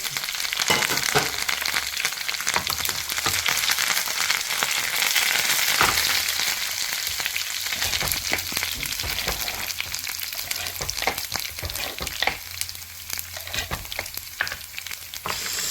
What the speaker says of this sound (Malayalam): ഒരു മൂന്ന് ചെറിയുള്ളു മൂത്ത് കഴിയുമ്പോൾ വറ്റൽമുളക് ഇട്ടു കുറച്ച് കറിവേപ്പില